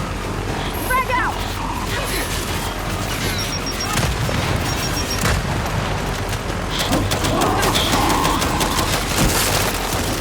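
Frag grenade explosion in the Gears of War 5 shooter game, a heavy booming blast amid ongoing battle noise, gunfire and crashing debris, with voices shouting in the mix.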